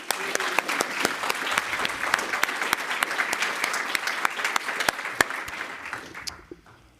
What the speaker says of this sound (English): So please join me in a final round of applause for all our award recipients.